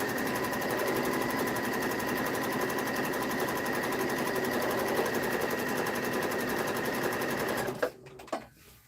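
A sewing machine stitches bias tape with a quarter-inch seam allowance, running in a steady, close, rapid whirring rhythm for several seconds before stopping with a couple of mechanical clunks.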